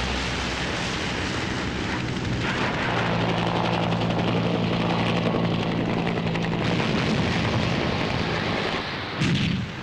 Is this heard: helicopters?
yes